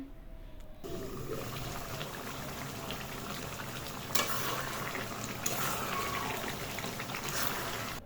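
Broiler chicken curry simmers in a covered pot, giving a steady bubbling sizzle throughout, with a few faint clinks and no speech.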